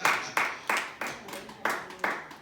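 Slow, rhythmic clapping from a church congregation acclaiming the Lord, six evenly spaced claps in unison, each sharp and moderately loud with a short room echo.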